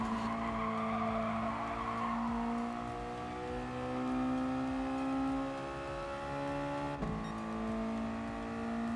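Race car engine in Gran Turismo Sport holding steady high-pitched harmonic tones with a loud, continuous whine, shifting pitch as it drops a gear, with tire squeal from not braking hard enough while going around the outside of another car.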